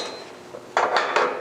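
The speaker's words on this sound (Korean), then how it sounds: "슬래그가 식어 검게 변하면 망치로 살살 쳐서 제거해 주시고요" A hammer gently chips cooled, blackened slag off a straight flange weld bead laid with an E4313 electrode: three sharp metallic clinks in quick succession, close and clear over a quiet background.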